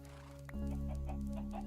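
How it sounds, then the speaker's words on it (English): Chickens clucking in the video game Minecraft as a flock is let out of a pen, a low steady cluster of clucks that starts abruptly and carries on quietly. "I'm going to let all the chickens out."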